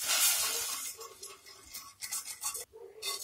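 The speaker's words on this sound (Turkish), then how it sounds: "Ocağın üzerine alarak güzelce karıştıralım." A spoon scrapes and stirs a thick throat lozenge mixture with cinnamon, cloves and lemon juice in a pot on the stove, giving steady close rubbing and scraping with small clinks and no talking.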